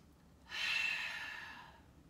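One long, soft breath during a yoga session, a breathy exhale rising and fading over about a second and a half, close and alone.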